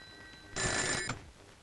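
A telephone rings once in a short, loud burst of bright electronic tone that cuts off abruptly, set in a quiet room in a Hindi horror film scene.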